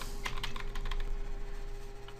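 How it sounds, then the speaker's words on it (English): Typing on a computer keyboard, a quick irregular run of light key clicks heard close and alone, fading slightly at the end. "you can press enter on the keyboard"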